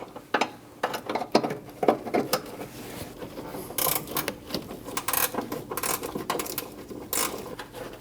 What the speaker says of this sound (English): I'm going to use a 13mm wrench and reach all the way down to the bottom nut for the horn.